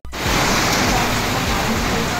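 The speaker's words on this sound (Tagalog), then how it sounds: "Grabe, ang lakas ng ulan." Heavy rain pours down in a dense, loud, continuous roar that holds steady from just after the start to the end.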